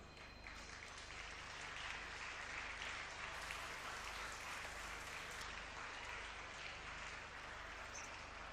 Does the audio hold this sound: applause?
yes